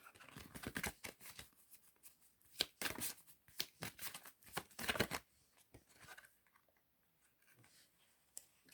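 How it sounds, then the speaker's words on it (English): Tarot cards are shuffled in quick riffled bursts, close and crisp, with a run of sharp flapping clicks that slows to a few softer taps before falling quiet. "let's go and pick another card out"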